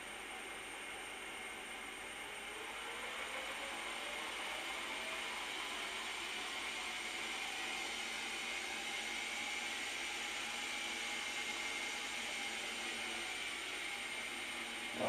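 A Tesla large drive unit motor spins on its first run, giving a steady, faint whine and hum. A tone sweeps slowly through it as the speed changes, and the sound holds constant throughout.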